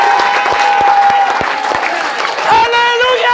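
Members of a church congregation applaud at a service, a brief burst of thick, continuous clapping with sustained voices ringing above it, loud and near.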